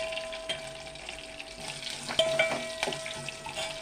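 Green chillies, dried red chillies and curry leaves frying in hot oil, a light continuous sizzle with occasional sharper spits and clinks of stirring, close and moderately quiet, no talking.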